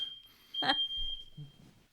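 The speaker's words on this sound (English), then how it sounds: "It's the fire alarm just going off." An indoor fire alarm sounds as a single steady high-pitched tone that runs through the whole clip, with a brief clatter and low muffled noise beneath it.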